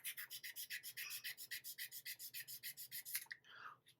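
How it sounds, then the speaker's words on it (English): A resin figure is sanded by hand, a quick steady rhythm of close, soft scratchy rubbing strokes, about six per second, ending in a couple of slower scrapes. "So I'm going to sand that out a little bit."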